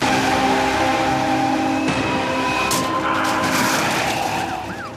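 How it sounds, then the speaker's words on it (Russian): Traffic at an intersection where a black foreign car slams into a Niva: loud, continuous engine roar and road noise, with a sudden sharp impact-like burst partway through and tonal squeals fading toward the end. "в Ниву справа от автора ролика влетает черная иномарка и буквально сносит отечественный автомобиль"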